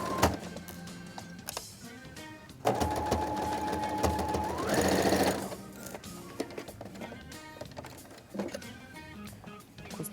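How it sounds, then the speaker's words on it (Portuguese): Sewing machine stitching seminole patchwork for a towel, a steady motor hum with a whining run that rises in pitch, surrounded by shorter bursts and clicks of the mechanism, moderately close. "máquina de costura"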